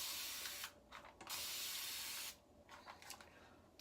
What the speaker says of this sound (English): I take this sprayer because it sprays good